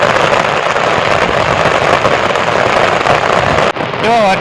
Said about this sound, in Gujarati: તો પાછો જોરદાર ચાલુ થઈ ગયો વરસાદ